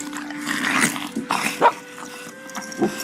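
Three hungry dogs growl and whimper up close in short uneven bursts, with a couple of sharper yelps standing out near the middle and the end.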